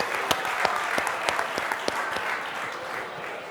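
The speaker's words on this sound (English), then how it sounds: "Let's give a nice round of applause" An audience claps steadily for the judges at a startup pitch competition conference, a dense, continuous round of applause with a few sharper individual claps standing out near the front.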